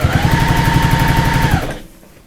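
A sewing machine runs a long top stitch down the folded front edge of a Maysen bag, a steady rapid needle chatter close up for about a second and a half before stopping abruptly.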